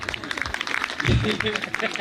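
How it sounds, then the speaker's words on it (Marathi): An audience claps for a performer named Pratik at a stage show, lively clapping mixed with voices and a speaker talking over it. "प्रतीकच्या नावाची टाळी वाजवा"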